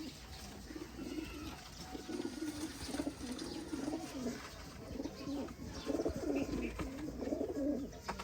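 Ababil chapde pigeons coo softly in repeated low, rolling phrases over steady background hiss. No talk.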